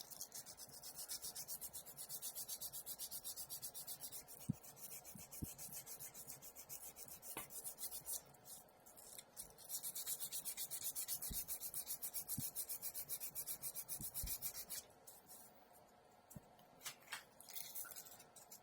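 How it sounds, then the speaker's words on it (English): Sandpaper rubbing paint off a sculpture in steady, continuous rasping strokes, quiet and close, with brief pauses and a few small knocks. "When you already sand paint, your sandpaper gets clogged quickly."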